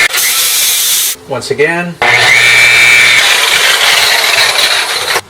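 A power sander works scratches out of a car body panel, loud steady whirring grind interrupted briefly while someone speaks, then resuming at full strength close up.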